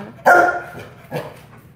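One loud, close bark from a Bernese mountain dog, followed by a softer second bark about a second later.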